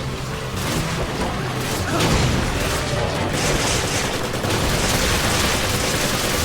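M8 Avenger gunfire in Resident Evil 5, a dense unbroken roar of rapid shots and booms, loud and close, filling the whole stretch without pause.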